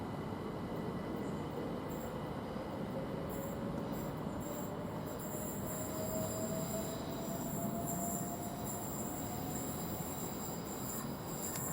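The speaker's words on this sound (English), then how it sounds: "this late run of the 1206, which is about a minute late from Rochester to London Victoria," A train departs Rochester station for London Victoria, a steady rolling rumble with a faint rising wheel squeal, heard at moderate distance without talk.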